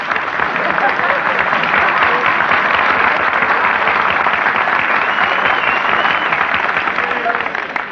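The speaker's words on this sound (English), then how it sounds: "Nobody was supposed to applaud there." A studio audience at a radio comedy program bursts into dense, sustained applause, the clapping loud and steady from start to finish with no break.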